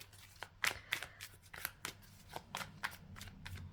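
Tarot cards being shuffled by hand, a quiet close series of crisp riffling and slapping bursts in an irregular rhythm, with no talking.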